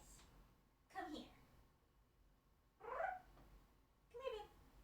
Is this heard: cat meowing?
yes